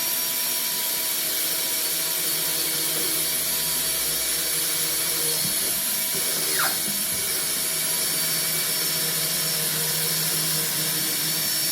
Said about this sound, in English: we'll just hold the drill there and just go straight through that